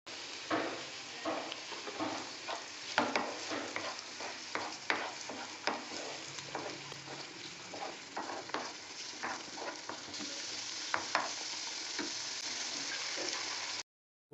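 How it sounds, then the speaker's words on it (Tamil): Chopped tomatoes frying in a pan over onions and ginger garlic paste for an egg pepper curry: a constant close sizzle with frequent spoon scrapes as the mixture is stirred, and no voices. "நறுக்கின 2 தக்காளி சேர்த்துக்கலாம்."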